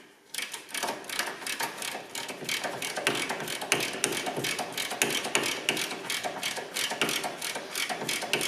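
Rapid ratchet clicking runs nearly the whole time as a lower ball joint nut is tightened on a Volvo Amazon suspension, close and steady in bursts with no talk.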